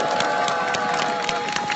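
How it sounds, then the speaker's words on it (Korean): A crowd at a Wednesday protest rally over the comfort women agreement claps and cheers for two speakers, a dense outdoor burst of applause with scattered shouts, heard through a muffled, narrow recording. "정대영 윤미향 상임대표님께 다시 한번 큰 박수 보내주시기 바랍니다"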